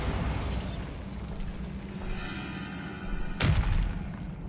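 Bombarda blasting spell from Hogwarts Legacy: a sharp, loud blast about two-thirds through, rising over a dense game-ambience rumble with a faint mechanical whir before it.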